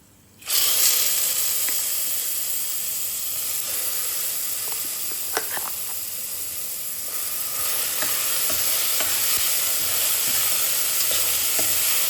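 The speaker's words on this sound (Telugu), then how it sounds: "నెక్స్ట్ మనం మెత్తగా రుబ్బుకున్న కొబ్బరి పేస్ట్ ఉంది కదండి, అది వేసుకుందాం." Finely ground coconut paste frying in ghee in a pan for coconut payasam, a sudden loud sizzle that settles into steady hissing with light scraping stirs throughout.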